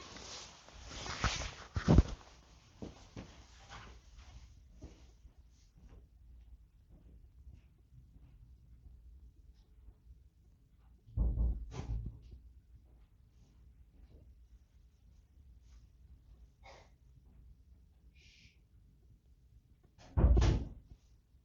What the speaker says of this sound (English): I'm just going to go shut that door, actually.